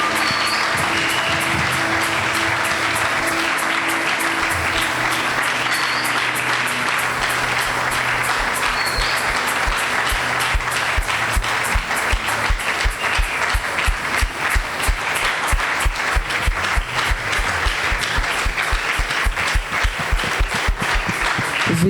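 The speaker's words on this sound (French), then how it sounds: "Acclamez très très fort pour cette visitation." A church congregation applauds and cheers loudly, a dense wash of clapping that settles after about ten seconds into steady, rhythmic unison clapping that continues to the end.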